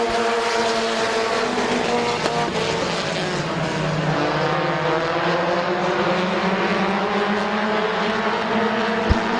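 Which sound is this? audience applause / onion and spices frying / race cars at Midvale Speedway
race cars at Midvale Speedway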